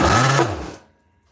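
The nitro engine of a radio-controlled car, its throttle blade set too low, revs up briefly with a loud buzzing whine and then dies away into silence as it fails to idle.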